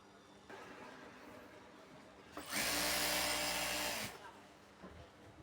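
A sewing machine stitches fabric for palazzo pants with an elastic waistband, a loud, even mechanical whir lasting under two seconds between quieter stretches of room noise.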